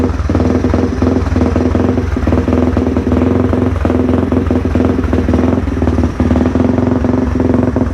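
A Yamaha TTR225 dirt bike engine runs at a steady idle, loud and close, with a continuous throbbing, clattery drone and no talking.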